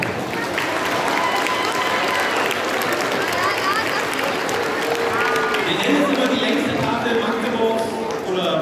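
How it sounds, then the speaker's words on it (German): Hearty applause from a large crowd at a charity Christmas party in an exhibition hall, dense and sustained throughout with crowd noise and voices mixed in. "Einen herzlichen Applaus."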